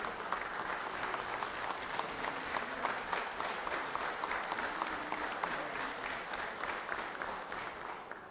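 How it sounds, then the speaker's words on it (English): Applause fills the Georgia Senate chamber, a steady wash of many hands clapping at moderate level for the full stretch, with a faint voice or two showing through the crowd noise. "let's give them a round of applause here"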